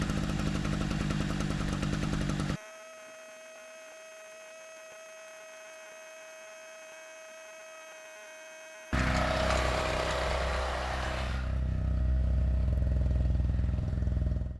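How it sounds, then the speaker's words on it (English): A small Harbor Freight portable generator drones loudly and close outdoors in winter. It cuts off to near silence with a faint tone, then the engine sound returns. "got the little Harbor Freight generator all set up, fired up first pull"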